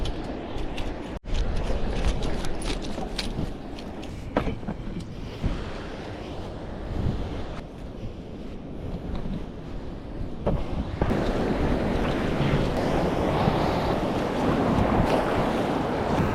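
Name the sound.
ocean waves at the shore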